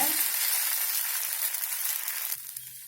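Drumstick-leaf adai batter hits a hot dosa griddle and sizzles steadily, a broad, close frying hiss that fades slightly toward the end as a low hum enters.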